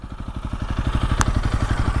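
Honda CRF300L motorcycle engine running steadily at a low, even pulse, its rapid firing thumps close and loud with a brief clack partway through.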